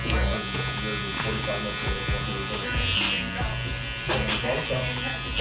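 Electric hair clippers buzz steadily while cutting close beneath longer hair during a fade haircut, a continuous near hum with small variations as they move, with a voice talking over it.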